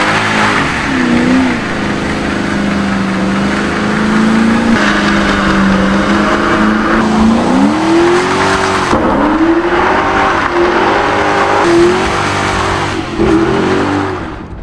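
A Ford with a 5.4-liter DOHC V8 revs loudly in the Need for Speed racing game, the engine note climbing and dropping through several gear changes, with tire squeal along the way and no speech.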